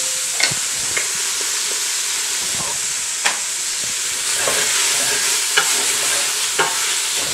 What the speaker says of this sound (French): J'ai là 650 grammes de bœuf haché déjà cuit. J'ai commencé avec 1 kg à peu près. On va remuer vite fait.